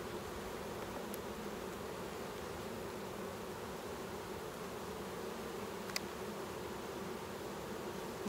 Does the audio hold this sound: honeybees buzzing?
yes